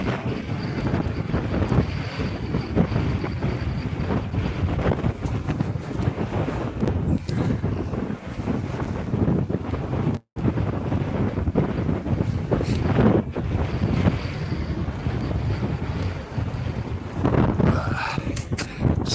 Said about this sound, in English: That wind just came up out of nowhere.